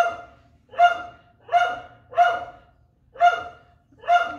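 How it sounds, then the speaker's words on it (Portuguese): A dog barks six times in an evenly spaced series, each bark sharp and fairly close, with quiet gaps between and a low background hum. "E o cachorro aqui, né? Ele tá latindo mesmo aqui."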